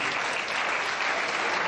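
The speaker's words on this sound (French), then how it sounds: "Applaudissez-vous." A short, dense burst of applause fills a hall at a formal ceremony, many hands clapping at once at a strong, even level.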